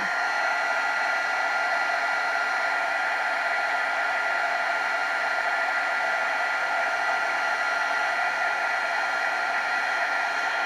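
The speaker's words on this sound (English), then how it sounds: "the key to a heat embossing gun is, as soon as you see it turn, it's done" A heat embossing gun blows a steady, loud, even rush of hot air onto a card, a continuous hiss with no pauses and no talking.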